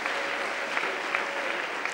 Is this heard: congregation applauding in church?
yes